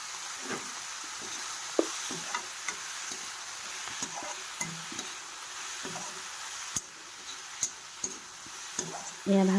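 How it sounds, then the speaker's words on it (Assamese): Night jasmine (shewali) flowers fry in a pan with a soft continuous sizzle, broken by frequent sharp taps and scrapes of a spatula as they are stirred. "ঢালি মই ভালদৰে আকৌ ভাজি ল'ম শেৱালি ফুলখিনি।"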